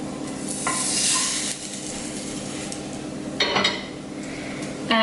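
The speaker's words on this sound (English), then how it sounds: "I'm going to slip it out of this pan onto a plate" Cooked okonomiyaki sliding from a frying pan onto a plate, faint sizzle under a few metallic scrapes and pan knocks, with a clatter near the end.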